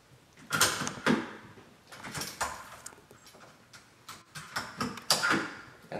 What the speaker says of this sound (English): So we're just gonna go ahead and put this lever set in.